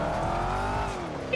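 A loud car in Grand Theft Auto V roleplay drives with a steady, sustained engine drone and rising tonal whine, close and continuous throughout, with no talk over it.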